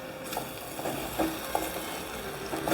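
Okra curry being stirred in a pan after roasted peanut powder goes in, a steady sizzle underneath with soft intermittent scrapes of the spoon, close and moderately loud, no voices.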